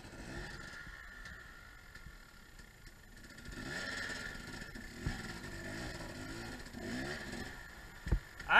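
A motorcycle rolls slowly in first gear along a trail, its engine a low, steady, fairly faint putter with slight swells and a clatter near the end.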